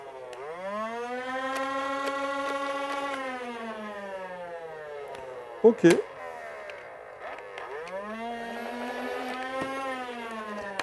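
Electric motor of a Nerf Modulus Regulator blaster whining up to a steady, fairly high-pitched spin, dipping briefly with a couple of sharp clicks midway, then spinning up again; a short word is spoken.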